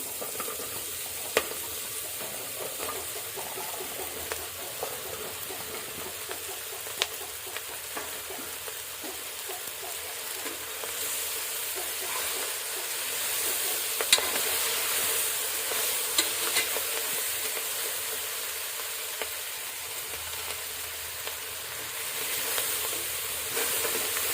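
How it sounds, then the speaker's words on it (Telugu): Cut okra pieces frying in oil with green chillies, a long even hiss of sizzling with occasional light stirring clicks, steady and moderately quiet at close range, no one speaking. "ఇప్పుడు మనం కట్ చేసిన బెండకాయ ముక్కల్ని వేస్తున్నాను"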